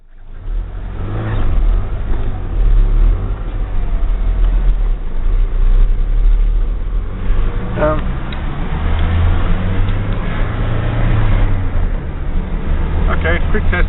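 A Ford Ranger on a test drive after a clutch change: steady engine and road rumble inside the cab throughout, with some rises and falls in engine note and a voice talking over it.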